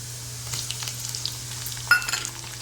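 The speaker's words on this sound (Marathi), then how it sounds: "आता याच्यामध्ये आपल्याला बारीक चिरलेला टोमॅटो घालायचा आहे।" Finely chopped tomato going into sautéed onion in a pan for a dry flat-bean (ghevda) bhaji, giving a soft, steady sizzle with light scraping and one brief sharper crackle, no voices.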